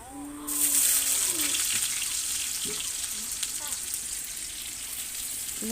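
Sliced onion hits hot oil already crackling with cumin seeds and two dried red chilies, setting off a sudden loud sizzle that stays strong and close before easing slightly, with a brief voice at the start.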